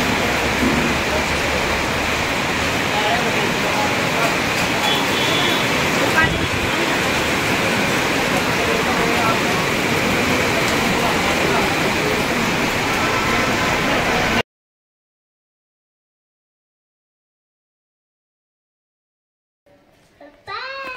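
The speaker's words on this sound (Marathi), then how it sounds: "हा परत यायला लागला पाऊस." Rain pours steadily near Khandi waterfall, a dense loud hiss that fills the first fourteen seconds before cutting to silence, with children's voices heard briefly at the very end.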